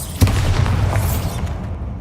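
A Bombarda blasting spell explodes in Hogwarts Legacy on Xbox, a sharp boom that hits near the start and rolls out into a rumbling, debris-filled tail lasting over a second.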